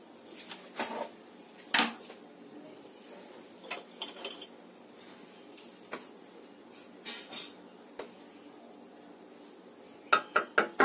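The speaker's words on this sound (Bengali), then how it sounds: "এবার এই দুধের মধ্যে আমি চালের গুঁড়ো মেশাবো।" Rice flour is stirred into warm coconut milk in a bowl, heard as sparse, quiet clinks and taps of a spoon against the bowl, ending in a quick run of sharper knocks.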